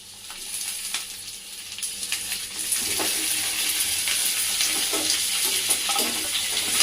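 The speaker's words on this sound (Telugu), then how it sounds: "మూడు టమాటాలు మంచిగా మగ్గాలి కొద్దిగా మగ్గాలి మంచిగా మగ్గుతుందండి" Three chopped tomatoes fry softly in a pan while making a gutti vankaya curry, a steady close hiss that grows gradually louder, with light scraping and bubbling over it.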